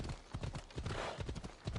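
Horse hooves in Assassin's Creed Odyssey: a quick, steady clip-clop of galloping hoofbeats, close and fairly quiet, with no talk over them.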